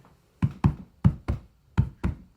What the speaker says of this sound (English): That could be a heartbeat.